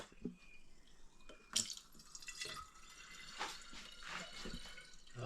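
Homemade elderflower cider runs through a siphoning tube into a glass, making faint trickling and dripping sounds with a few small gurgles and splashes against quiet background hiss.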